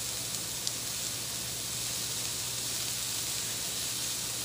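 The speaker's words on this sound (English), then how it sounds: "I'm going to add that garlic right to the skillet. Stir it around. Let it cook a bit with the onions." Garlic and onions cooking in a skillet, a steady close sizzle and hiss throughout with no breaks.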